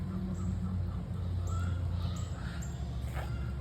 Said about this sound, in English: You can hear the others squawking in the back, probably fighting over a nesting box